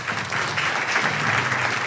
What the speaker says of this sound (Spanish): aplausos en la apertura